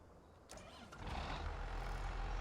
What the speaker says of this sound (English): we're going to go ahead and start her up for the first time with the 300 horse engine